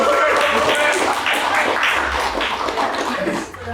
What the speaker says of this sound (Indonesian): Sekali lagi tepuk tangan buat Millennial Warrior